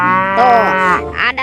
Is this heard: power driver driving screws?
no